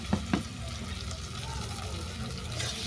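A spice paste of ginger, garlic, onion and poppy seed, with salt and chili powder, fries in a pan in a steady, moderate sizzle, opened by a couple of soft knocks near the start.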